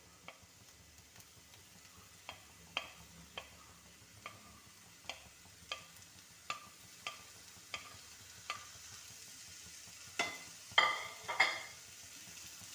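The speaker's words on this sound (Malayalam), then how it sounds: "ഇനി നമുക്ക് ഇതിലേക്ക് നമ്മൾ അരിഞ്ഞു വെച്ചിരിക്കുന്ന ക്യാപ്സിക്കവും തക്കാളിയും കൂടെ ഇട്ട് കൊടുക്കാം" Chopped capsicum and tomato are stir-fried in a pan, with a spatula tapping and scraping the pan in a steady series of faint clicks over a low sizzle, a few louder scrapes near the end.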